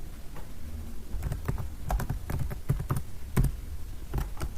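Typing on a computer keyboard to enter a file name, with a run of irregular, close key clicks in quick bursts over a quiet room.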